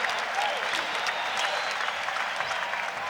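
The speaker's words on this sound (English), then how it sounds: "the crowd starts to liven up here" Basketball arena crowd at a 1991 Bulls vs SuperSonics NBA game, a sustained wash of clapping and cheering that holds steady throughout, loud and dense, with faint speech mixed in.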